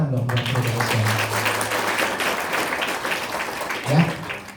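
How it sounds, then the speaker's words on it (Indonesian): An audience applauds Prudential at a company event, a continuous round of clapping that runs under brief speech at the start and swells again near the end. "Tepuk tangan dong buat Prudential."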